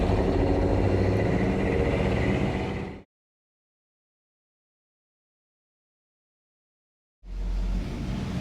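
A 1974 Ford F100 pickup's engine runs loudly and steadily, cuts to total silence for several seconds, then comes back in mid-run.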